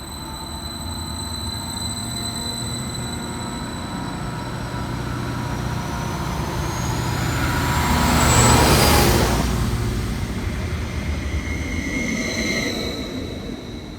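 Transport for Wales unit 231011 pulls out of a station on the Hengoed to Barry Island service, a rising rumble of wheels and motors with faint squealing tones, swelling as it passes close, then easing away.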